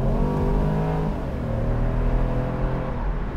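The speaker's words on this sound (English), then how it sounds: "I'll just hit the loud pedal here and see what happens when we get the wheels straight." A 2014 BMW Z4 sDrive28i M Sport roadster with a 245 hp 2.0-litre four-cylinder revs hard under full acceleration, a loud, steady engine drone rising in pitch throughout, with no voices.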